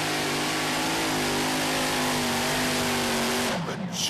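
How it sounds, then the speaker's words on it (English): Modified tractor in the light modified class roars at full power during a tractor pull, a loud sustained engine drone with a steady pitch that drops and cuts off near the end. "tractor in light modified is On the Limit, driven today by Mark Pacey."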